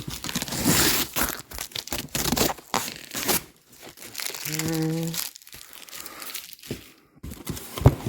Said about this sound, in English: Don't have a box cutter on me, so just press in the sides, open the tape up.